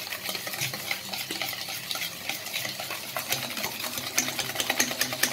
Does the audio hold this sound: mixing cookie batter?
yes